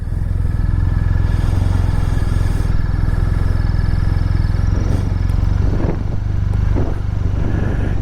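A BMW R1250 RT motorcycle rides at a steady pace, its engine droning loud and constant with a low rumble throughout, with a little clatter and no talk.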